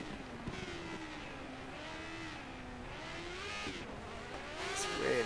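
An F1 car in the F1 2013 racing game at the classic Singapore Grand Prix howls through its gears, its engine pitch rising and dipping with upshifts and corners, ending in a brief high squeal, steady and close throughout.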